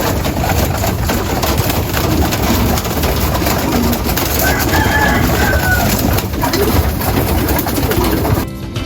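Pigeons coo softly in the morning, their faint calls sitting beneath a steady, loud background of outdoor noise that continues throughout.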